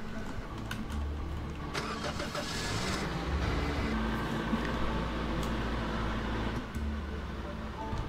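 Ferrari car engine in Roblox Lumber Tycoon 2, a steady mid-pitched motor hum that swells and settles over several seconds with small clicks on top, at moderate volume.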